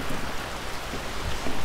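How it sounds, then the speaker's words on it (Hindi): Steady rain falls on a Kerala backwaters houseboat, a dense even hiss of drops with no voices. "जो है बारिश हो रही है।"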